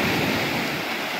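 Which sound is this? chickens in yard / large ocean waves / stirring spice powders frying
large ocean waves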